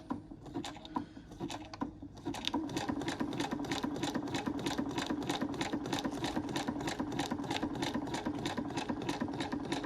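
A sewing machine stitches through paper, running fast and steady with a close, even mechanical chatter after a short, slower start of separate stitches.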